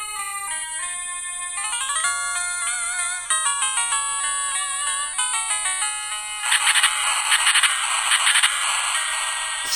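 NES game music from the small built-in speaker of a Bittboy PocketGo handheld, a bright, tinny chiptune melody with fast arpeggios that gives way to buzzy, noisy effects near the end, steady and alone.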